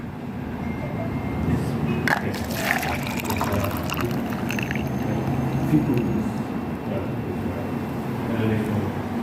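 Coffee poured from a vessel into a cup, a steady liquid stream running for several seconds at moderate loudness with faint background noise and a few brief clinks.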